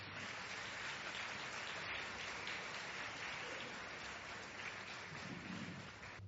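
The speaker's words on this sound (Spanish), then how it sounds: "Por favor, recíbala con un fuerte aplauso." Audience applause in a church, a continuous dense patter of many hands clapping, steady and fairly distant, with no voices audible.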